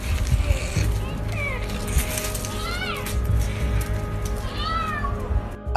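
A cat meows repeatedly in rising and falling drawn-out cries over a rumbling background, the calls loud and close with short gaps between them.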